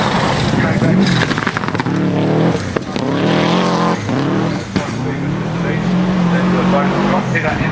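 A rally car runs through a stage at the 2006 Rally of South Australia, its engine loud and close with rising and falling revs through gear changes, under continuous commentary.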